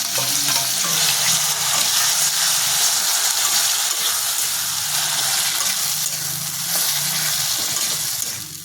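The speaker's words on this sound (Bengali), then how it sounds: "আর এদিকে তেলটাও আমার গরম হয়ে গেছে, তো তেলটার মধ্যে আমি দিয়ে ভাজা ভাজা করব" Onion, ginger, garlic and chilli paste frying in hot oil for a Bengali pui shak chhechra, a loud, steady sizzle with stirring scrapes running throughout, no voices.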